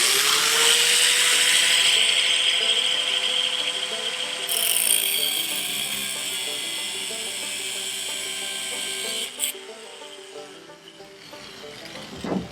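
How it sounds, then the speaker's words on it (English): A cutoff wheel grinds through a piece of metal bar at a belt-grinder workbench, a loud high whine that runs steadily, then spins down and stops near the end. "And then with the cutoff wheel,"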